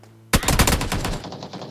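A burst of automatic gunfire in the mobile battle royale game PUBG New State, loud and close, with rapid repeated shots that start abruptly and fade into a short echoing tail.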